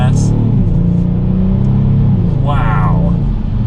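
A 2022 Kia Stinger GT2 AWD pulls hard in sport mode, its deep engine and exhaust rumble steady and loud inside the cabin throughout, with a brief higher whoosh near the end.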